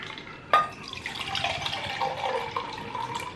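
Liquid pours from a cocktail shaker into a glass for a tequila drink, a short splashing stream starting with a sharp clink and trickling on for a few seconds, close and fairly quiet.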